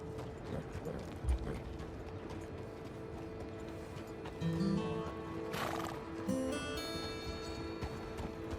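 A Kentucky-bred horse whinnies and snorts at moderate distance while hooves clop softly, with a faint mechanical ratcheting and a steady background hum.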